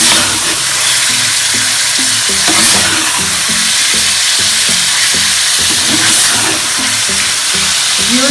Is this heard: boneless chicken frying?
yes